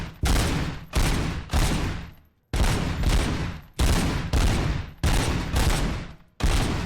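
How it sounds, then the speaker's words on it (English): Heavy gunfire from a weapon in a RoboCop video game, heard alone: a loud, booming run of about ten blasts in uneven bursts, each with a long rumbling tail and no voices over it. "Sounds like this gun is made of fucking thunder."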